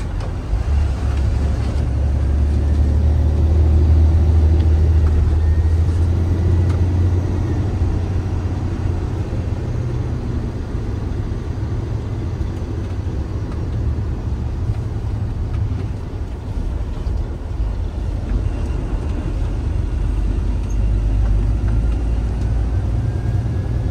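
A Tata 2830 tipper truck driving, heard as a low, steady diesel drone from inside the cab, with deep rumbling that swells slightly early on and then holds even for the whole stretch.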